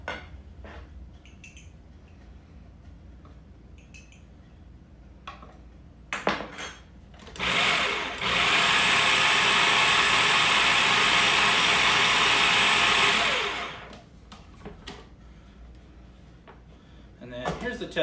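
A food processor pulses fresh pasta dough in a home kitchen, a steady loud whirring burst of about five seconds after some handling clatter, with quiet clinks and movement around it.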